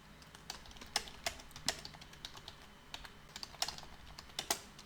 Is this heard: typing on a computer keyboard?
yes